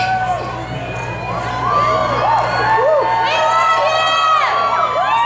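A large crowd at a political rally in Las Vegas cheers and whoops loudly and continuously, with shouts and whistles mixed into the steady roar.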